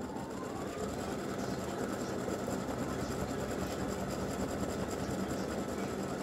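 An embroidery machine stitches free-standing lace for a gingerbread house earring and ornament set. It runs as a steady, dense, rapid mechanical whirr and rattle, continuous and fairly loud, with no pauses.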